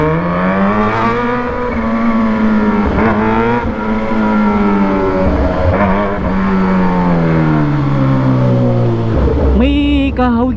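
A Kawasaki Z H2 motorcycle with a full titanium exhaust revs continuously, roaring loud and close, pitch climbing and falling through gear changes, with a sharp rise near the end.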